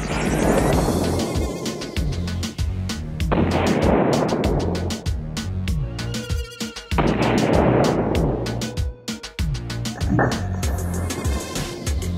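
An AK rifle fires a series of shots at an AR500 steel and UHMWPE Level III armor plate, loud and booming with ringing decay, in several bursts of rapid cracks separated by short pauses outdoors.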